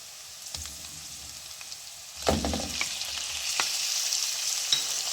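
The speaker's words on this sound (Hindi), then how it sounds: "चिकन को हम अच्छी तरह फ्राई कर लेंगे।" Steady sizzling of chicken frying in a pan with sautéed garlic, with occasional scraping and clanking strokes of a utensil stirring, close and fairly quiet, no voices.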